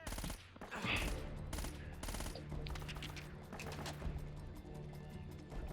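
Gunfire in the video game Uncharted: Drake's Fortune comes as loud bursts of rapid shots and a short volley, followed by more scattered firing under the game's background sound.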